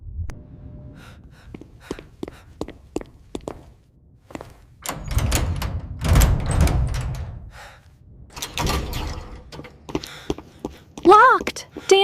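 Doors in a Thomas the Tank Engine spider video game bang and clunk in a series of sharp, close knocks and thuds, mixed with rumbling game noise and breathy gasps.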